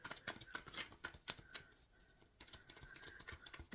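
Tarot cards shuffled by hand during a collective reading, a run of crisp papery riffles and flicks with a brief pause midway, close and fairly quiet with no talking.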